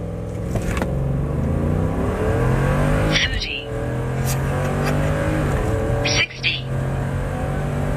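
Truck with a 10R80 automatic transmission accelerating hard at full throttle, a loud engine climbing in pitch with aggressive gear shifts, heard from inside the cab with people talking.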